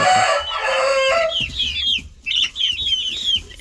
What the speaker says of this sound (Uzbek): Bitta xo'roz, qo'ygan tovuq mana.